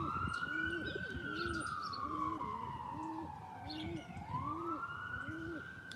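Low, repeated pigeon coos pulse rhythmically close by, while a wailing siren rises and falls steadily in the background.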